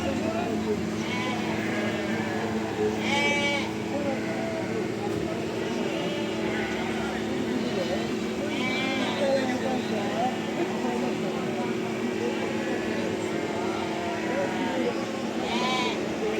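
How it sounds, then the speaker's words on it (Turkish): Lambs bleat intermittently at a busy outdoor sheep market, with bursts of bleating scattered over a steady crowd murmur and people talking nearby. "Bu kuzular kimindi belə?"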